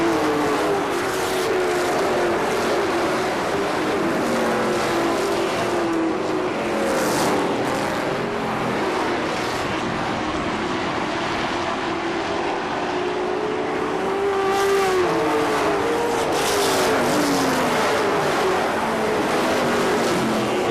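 Race cars at KilKare Speedway in Dayton drone around the track, engines rising and falling as they pass in and out of hearing, loud and continuous with no talk over them.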